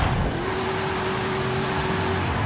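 A D-class car in Forza Horizon 5, fitted with an 8.9 litre engine, launches from a standstill, its engine giving a sustained loud droning roar with a steady tone as it accelerates.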